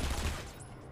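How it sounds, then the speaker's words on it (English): A short burst of rapid gunfire in Batman Arkham Asylum, faint and distant, lasting about a second. "So what's he shooting at?"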